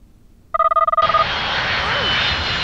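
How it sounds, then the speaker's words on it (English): An airplane engine roars at an airport in a children's TV episode, opening with a rapid pulsing electronic warble that gives way to a loud, sustained engine roar that stays close and steady. "We're at the airport! Oh no, look out for the plane, Dorothy!"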